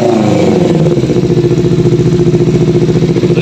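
Fuel-injected Kawasaki Ninja motorcycle engine running close by, a loud, steady, rapid pulsing idle with a slight dip in throttle near the start, then an even rhythmic throb.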